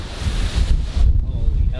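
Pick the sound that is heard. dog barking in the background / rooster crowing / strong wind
strong wind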